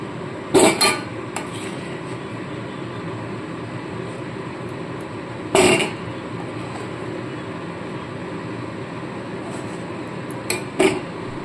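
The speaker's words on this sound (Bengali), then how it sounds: "আগে সম্পূর্ণ কচুগুলোকে তুলে নিচ্ছি।" Lightly boiled taro pieces are lifted out of a cooking pot, giving a few sharp metal clinks of utensil against pot, spaced apart over a quiet steady background.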